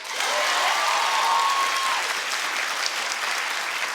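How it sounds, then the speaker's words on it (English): Dense, steady applause from a television talk show's studio audience, a loud continuous wash of clapping that holds evenly for about four seconds. "Clap if you say yes."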